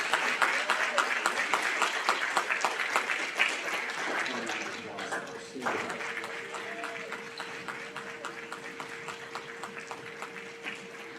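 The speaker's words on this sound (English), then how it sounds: "How about a round of applause for our silver president?" Audience at an 8th grade awards ceremony in a school hall giving a round of applause, dense clapping that holds steady then gradually thins, with a faint tone and some voices under it.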